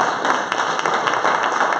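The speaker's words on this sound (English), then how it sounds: "come on and clap your hands like you know him." A church congregation at Mt. Olive House of Prayer claps along during a live service, with dense, steady, fairly loud overlapping handclaps and a faint voice underneath.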